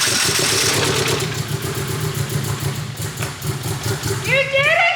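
A VW Corrado engine runs at a rough idle, its mid-pitched drone steady throughout while people talk excitedly over it near the end.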